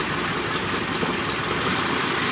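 A Daihatsu engine idles unevenly with one spark plug cap pulled off, a continuous close, buzzing mechanical hum with no voices.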